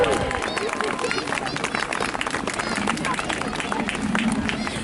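Crowd applause at a jousting show at Dover Castle, dense clapping mixed with cheering and babble, carrying on steadily throughout.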